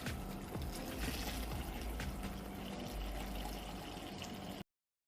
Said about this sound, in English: Once you feel comfortable, you can then lift the stock pan and begin to pour the stock through.